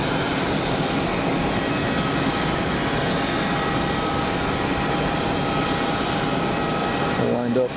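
Cessna Citation business jet at Geneva Airport, a steady loud broadband engine roar sustained throughout, with a brief shift in tone at the very end.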